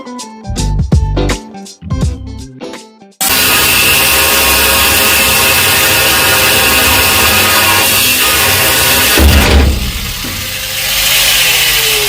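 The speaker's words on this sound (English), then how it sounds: "So let's go ahead and cut this spring off, and we'll cut one on the bottom, cut one on the top" A power tool whines steadily as it cuts through the rear suspension spring of a 1968 Chevrolet C10 truck, loud and continuous after a few short bursts, with a brief dip and restart near the end.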